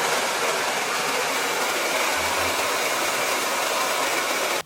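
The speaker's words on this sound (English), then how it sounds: "I'm just going to quickly dry that using my hairdryer." A hairdryer blasts steadily while drying the roots of hair, a loud, even broadband whoosh held for several seconds before it cuts off abruptly at the end.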